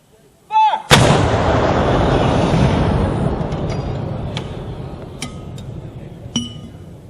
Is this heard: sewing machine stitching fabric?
no